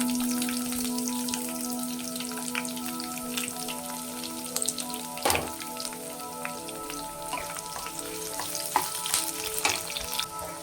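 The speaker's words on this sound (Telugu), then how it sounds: "అందులోకి కొద్దిగా ఆయిల్ వేసి ఆవాలు కరివేపాకు చిన్నగా కట్ చేసి ఉంచుకున్న ఉల్లిపాయను కూడా వేసి దోరగా వేయించుకోవాలి" Chopped onion, mustard seeds and curry leaves fry in oil in a kadai for ridge gourd curry, a steady close sizzle with scattered crackles and one sharp clank of a utensil against the pan.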